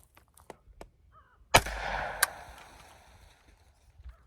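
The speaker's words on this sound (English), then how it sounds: "I'm gonna shoot normal semi-auto or single shots for the first couple of rounds" A rifle fitted with a Hoffman Tactical Super Safety fires a single sharp semi-auto gunshot outdoors, followed by a trailing echo and a second, smaller crack, with faint clicks around it.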